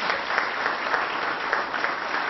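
An audience at a conference applauds its panelists, an even, continuous roll of many hands clapping at moderate volume throughout, with no speech over it.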